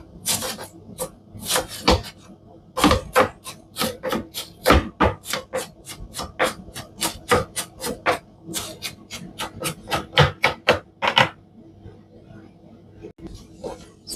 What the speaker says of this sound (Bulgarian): Смачкваме чесъна и го нарязваме на ситно